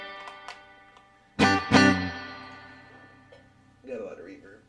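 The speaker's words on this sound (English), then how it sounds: "Got a lot of reverb." An electric guitar played through a reverb effect sounds two strummed chords that ring out in a long, slowly decaying wash, followed by a brief voice near the end.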